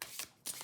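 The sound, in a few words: tarot cards handled, card slipping out of the deck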